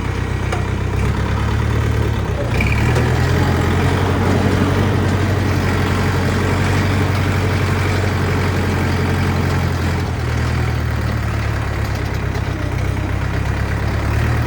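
A Jinma 404 tractor engine runs loud and close with a steady low diesel rumble, its tone dipping and shifting briefly around gear changes while the drone continues without pause.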